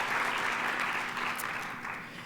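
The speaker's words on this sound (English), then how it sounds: "please round of applause for him" Moderately quiet but continuous applause from attendees at an outdoor ribbon cutting ceremony for an industrial plant expansion, a steady patter of many hands that fades gently toward the end.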